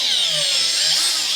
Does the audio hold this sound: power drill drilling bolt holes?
yes